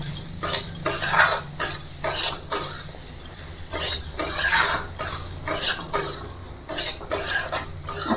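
Chickpeas and potatoes are mixed into masala in a pan, with loud, close, repeated scraping and clanking strokes of a spoon against metal over a faint sizzle.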